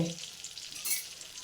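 Mustard seeds and cumin crackling in hot oil while cooking green hara bhara kababs, with a steady close sizzle and a brief burst of sharper popping near the end, no voices.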